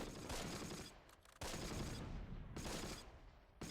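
Rapid rifle and machine-gun fire crackles in bursts in the World War II strategy game Close Combat: The Longest Day, with several dense volleys separated by short pauses, fairly faint overall.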